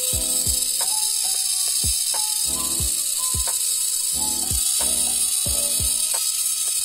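A small Bandai mini 4WD model car styled as a Lexus SC430 has its electric motor running steadily, a constant high-pitched whine throughout with repeated clicking, ratcheting gear noises on top, close and fairly loud; a brief spoken word.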